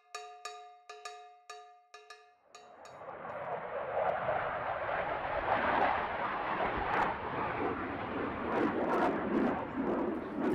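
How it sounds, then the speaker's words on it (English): A military jet from Oceana Naval Air Station in Virginia Beach passes overhead as a broad, rising roar that swells and holds loud. A few seconds of sharp, ringing cowbell-like strikes come before it. "that's a jet from Oceana Naval Air Station."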